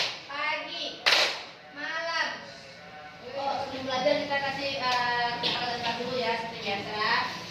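One loud, crisp clap stands out early in a chanted clap-pattern game at a teacher mentoring session, followed by steady group voices chanting and talking.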